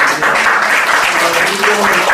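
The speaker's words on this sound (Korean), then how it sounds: "박수 한번 해주시면 되겠습니다." A church congregation breaks into loud, dense applause during a Sunday service, many hands clapping together in a close, continuous burst that fills the room.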